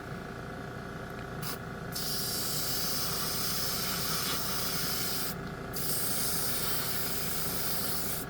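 A liquid atomizer sprays a fine mist in a steady, close hiss that holds throughout, rising slightly after the first couple of seconds with brief gaps in its higher sheen, tested over a gold spoon.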